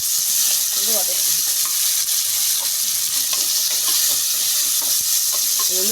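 Chicken gravy sautés in oil in a pan with small onions, giving a loud, continuous sizzle and crackle broken by occasional scrapes and stirs of a ladle, with no voices.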